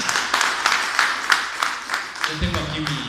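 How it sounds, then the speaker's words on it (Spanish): Applause from a church gathering rises as a steady patter of clapping, then a voice begins speaking over it near the end. "Dale un fuerte aplauso al Señor."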